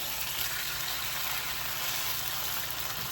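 Corned beef brisket sizzles steadily in a hot pan right after being flipped, a constant close crackle with no one speaking.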